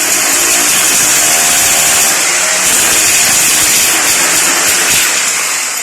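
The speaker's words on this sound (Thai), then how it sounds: "ครับพอได้ระดับก็ ทำการเจาะเลยนะครับผม" A hammer drill bores a hole for a wall anchor while installing an aluminum-framed glass panel, a loud continuous grinding whine that holds steady for several seconds.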